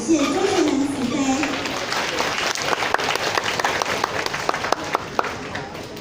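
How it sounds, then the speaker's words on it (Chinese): An audience at a scripture-reading exam gathering in a temple hall in Guantian, Tainan, breaks into sustained applause with crisp individual claps, following a short stretch of amplified speech. "再次热烈的掌声"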